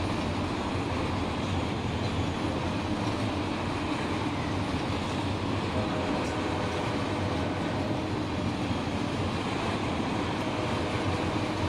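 A Run 8 simulator train rolls steadily on the San Diego line, its continuous rumble and wheel noise holding at an even level throughout with no voices.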